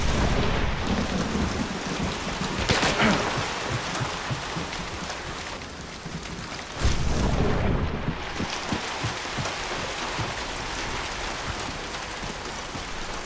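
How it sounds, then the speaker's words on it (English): Heavy in-game rain pours steadily in Hunt: Showdown, a dense hiss broken by loud thunder cracks and rumbles around the three- and seven-second marks, with no talking. "this rain crap is ridiculous"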